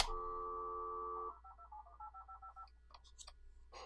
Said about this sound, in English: I can hear it dialing.